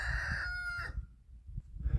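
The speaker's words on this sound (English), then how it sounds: "those roosters are noisy, aren't they?" A rooster crows once, a loud rising and falling cock-a-doodle-doo, followed by a short gap filled with low background noise.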